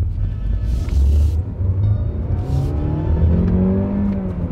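A turbocharged car engine accelerates, its rising whine and low rumble building steadily over a few seconds from inside the cabin, with no talking.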